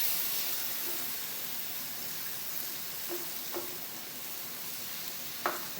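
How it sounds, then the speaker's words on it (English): Low carb keto shepherd's pie filling simmering in a pan, a steady soft sizzle and hiss close by, with a few brief stirring clinks and scrapes and no speech. "we're going to let this simmer for just a couple of short minutes here"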